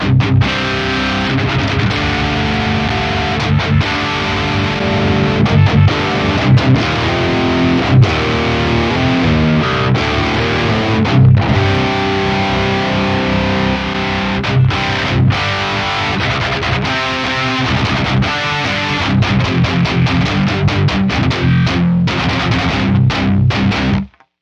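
Heavily distorted electric guitar through an Axe-Fx III model of a Cameron CCV 100 amp plays loud chugging riffs continuously, thick and saturated, with no voices.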